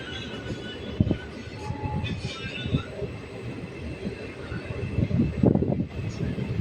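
A running train between Palanpur and Chandisar, heard from near an open window: a steady rumble of wheels on rail with rattling carriage noise, one brief squeal, and a louder surge of clatter toward the end.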